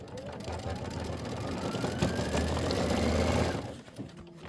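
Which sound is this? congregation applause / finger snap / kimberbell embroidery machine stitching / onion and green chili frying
kimberbell embroidery machine stitching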